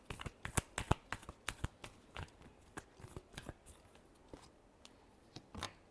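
Tarot cards are shuffled in a rapid series of crisp slaps and riffles, close and fairly quiet, with no talking.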